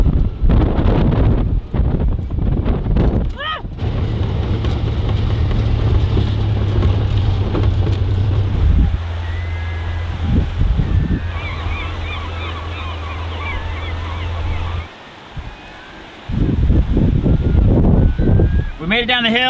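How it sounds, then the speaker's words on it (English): Strong wind buffets the microphone beside the Copper River at O'Brien Creek in Alaska, loud rumbling gusts rising and easing over about twenty seconds, with a vehicle-like drone partway through and a brief lull near the end. "Why is it always so windy here?"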